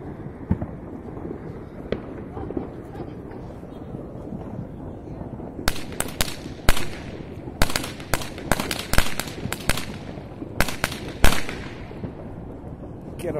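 Chinese firecrackers and fireworks exploding over a road as late cars drive through, sharp loud bangs in irregular bursts and rapid clusters over a low rumble of traffic.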